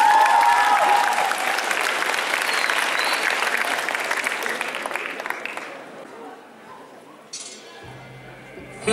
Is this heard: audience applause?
yes